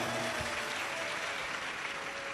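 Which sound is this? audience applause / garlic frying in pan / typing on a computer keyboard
audience applause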